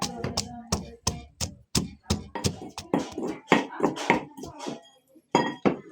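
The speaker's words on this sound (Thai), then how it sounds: "นี่เขาจะเอาพริกกระเทียมมาตำ" Chili and garlic pounded in a mortar with a pestle, a steady run of sharp, close thuds in an uneven rhythm over several seconds, with brief pauses and some clinks between strikes.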